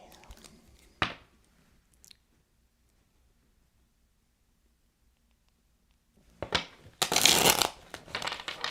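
Cards are shuffled with a quick riffling flutter, a couple of short bursts separated by a long quiet gap, close and crisp.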